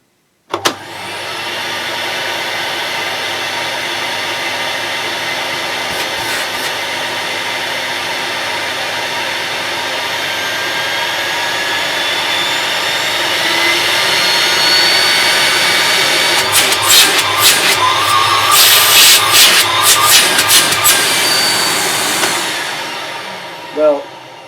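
An Electrolux Z5010 Excellio full-size vacuum cleaner running without its exhaust filter switches on and keeps up a loud, steady whine. The pitch climbs slightly and some rattles come in near the end before it cuts off.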